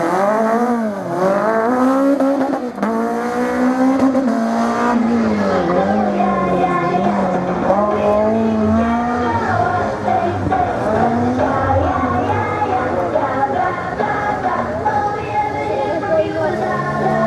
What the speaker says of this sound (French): Clio groupe A, boîte séquentielle, gros moteur, ex-série